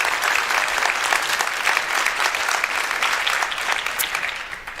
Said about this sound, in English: Microsoft, hey, round of applause for Microsoft